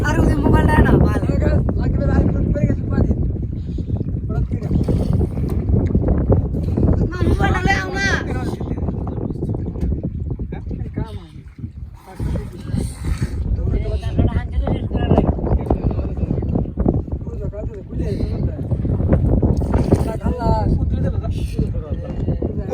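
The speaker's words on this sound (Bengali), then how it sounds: "অনেক বাতাস, এই যে পানি এই যে ভাই দেন, ওই যে নদী আর ওই যে পার" Strong wind roars and buffets the microphone during a river boat crossing, a loud continuous rush with the hum of the boat beneath, while people talk over it for most of the stretch.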